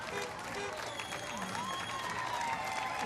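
Spectators lining an Independence Day parade route clap in a continuous broad wash, with scattered cheers and faint voices mixed in.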